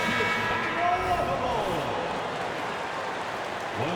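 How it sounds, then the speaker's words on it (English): Crowd applause and cheering fill a basketball arena during a championship ring ceremony for the Chicago Bulls against the Blazers, a steady roar under an announcer's voice. "a big round of applause for your Chicago"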